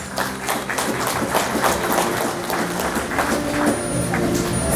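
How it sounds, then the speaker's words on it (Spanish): Dense, steady applause from a crowd at a primary school graduation ceremony for the Fe y Alegría class of 2022, many hands clapping continuously in a hall, moderately loud and without a break. "Fuerte las palmas."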